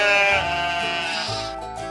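A sheep bleats loudly and up close, one long wavering cry that trails off, with no voices over it.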